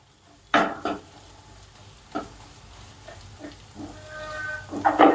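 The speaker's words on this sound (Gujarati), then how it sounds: "હળદરને આપણે શેકતા રહીશું જ્યાં સુધી સોફ્ટ થાય ત્યાં સુધી" Fresh turmeric being stirred and roasted in a kadai, with a few sharp scraping knocks of a spoon against the pan over a quiet low sizzle.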